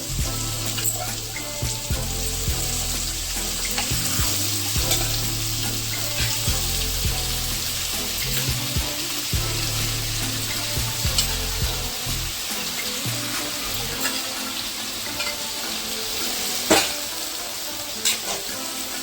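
Goat head curry with mutton sizzles and fries steadily in a pan, a continuous hissing crackle under intermittent scraping and stirring that eases off in the second half.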